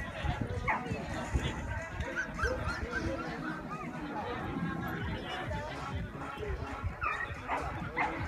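Several dogs bark and whimper at a canine agility competition, with yips and whines rising over a chattering crowd and announcer speech in Spanish, busy and continuous throughout.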